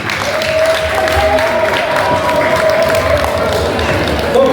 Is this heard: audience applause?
yes